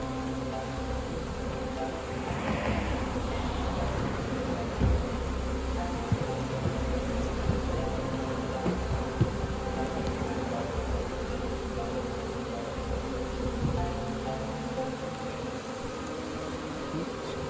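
Steady, dense buzzing of many honeybees fanning close by during swarm season, a continuous droning hum with no voices.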